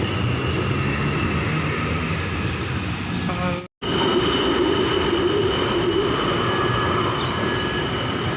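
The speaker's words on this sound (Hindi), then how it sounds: "ये जी ट्रेन जा रहा है ऊपर से" A train rumbles past overhead near the Pakistan Embassy in Kuala Lumpur, a loud continuous roar with a brief cut near the middle, then the heavy rumble carries on.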